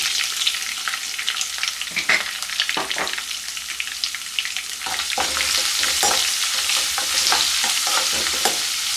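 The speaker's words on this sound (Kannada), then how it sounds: "ಇದನ್ನು ಲೋ ಫ್ಲೇಮಲ್ಲೇ ಫ್ರೈ ಮಾಡ್ಕೊಳ್ಳಿ, ಇಲ್ಲಾಂದರೆ ಸೀದೋಗುತ್ತೆ" Crushed garlic fries in oil over a low flame for garlic rice, a continuous close sizzle broken by repeated scraping stirs and spatula clicks that grow a little denser toward the end.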